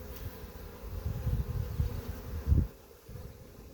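Honeybees buzz steadily at a hive as pollen-laden foragers return, a close, continuous low drone that swells in places with passing bees.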